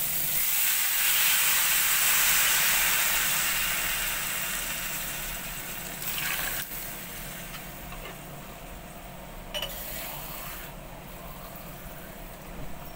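Water is poured into a hot pan of vegetables, starting as a loud steaming hiss that slowly dies down, with a few brief clatters toward the end.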